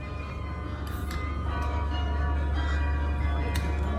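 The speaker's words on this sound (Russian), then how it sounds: "Я еще таких перезвонов, или как это называется, еще ни разу не слышала." Clock chimes ringing out over a loud low rumbling background, bright metallic strikes scattered across a few seconds, somewhat distant.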